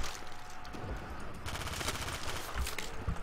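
An LSAT light machine gun firing in a custom World at War Zombies map, sustained rapid bursts of gunfire with a steady, busy rattle throughout.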